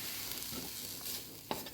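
Minced kibbeh filling sizzles with onion in a hot pan, a continuous soft frying hiss with a few scrapes of stirring and one sharper crackle near the end, quiet and close with no talk.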